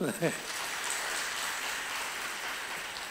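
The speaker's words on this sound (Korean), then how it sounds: "박수 한번 부탁드릴게요" An audience at a dental live surgery event applauds with a dense, even patter of clapping that holds steady for about three seconds, and a voice is briefly heard at the start.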